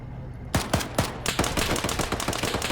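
Sustained gunfire in a video game battle, beginning with a few spaced loud shots and building into a dense rapid fusillade of overlapping cracks close by.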